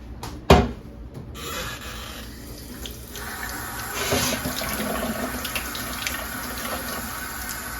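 A sharp clink, then a steady stream of water pours and splashes into a plant propagation jar holding rooted cuttings, continuing softly for several seconds.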